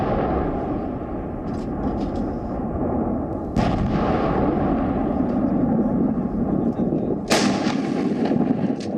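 Deep artillery booms roll out over a constant low rumble, with two sharp, loud blasts standing out among distant thuds, from shelling in the Kargil War.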